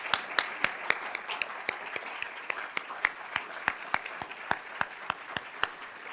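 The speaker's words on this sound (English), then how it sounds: "one more round of applause for these 4 kings" A crowd applauding award recipients at a 2025 award and portrait presentation, a soft continuous patter of clapping with a few sharp, regular close hand claps standing out above it.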